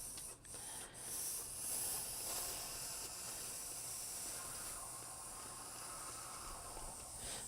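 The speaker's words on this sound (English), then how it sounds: "I want to make sure that I am applying enough steam to the project." A handheld steamer hisses steadily while steam-blocking a crochet shawl. The broad, even rush runs continuously with only slight dips and no talking.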